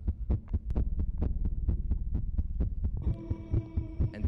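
Rapid heartbeat at roughly 145 to 180 beats per minute, a fast, regular low thumping pulse. A droning hum comes in near the end and carries on under the beats.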